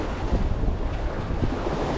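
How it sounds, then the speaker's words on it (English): Strong wind and building waves while sailing on Lake Ontario make a dense, continuous roar of wind buffeting the microphone and water rushing against the hull, loud and steady with no voices. "the wind has really picked up and the waves have built for sure"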